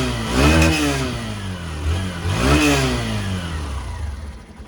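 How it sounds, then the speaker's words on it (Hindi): A Hero Super Splendor Xtec motorcycle with a 124.7 cc BS6 fuel-injected engine revs twice, its exhaust note rising and falling between a steady idle, loud and close. "सुनते हैं इसका एग्जॉस्ट साउंड,"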